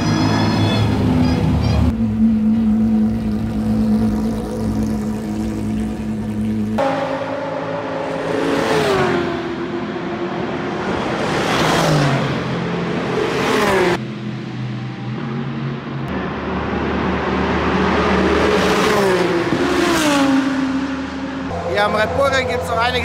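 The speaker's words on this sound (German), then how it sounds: "Es lassen einige ihre Motoren warm laufen für die nächste Session." Race car engines warm up at the Red Bull Ring circuit, rising and falling in a series of loud revving sweeps over a constant mechanical drone, with people talking over the engine noise.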